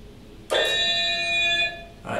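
Laser tag equipment gives a tonal electronic alert when tagged, a single sustained chime-like tone lasting about a second, clear and close, with a quieter follow-up sound beginning at the end.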